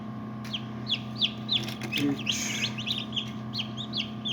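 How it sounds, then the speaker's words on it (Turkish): High, repeated peeping chirps from newly hatched chicks, close by, with a faint murmur of voices and handling noise underneath. "Şimdi gördüğünüz gibi civcivler çıkmaya başladı."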